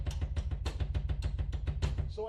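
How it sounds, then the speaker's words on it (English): A drumstick clicks rapidly on a drum rim in an even, driving pattern of close, sharp taps, with a low bass pulse underneath. "And sometimes I just play on the rim"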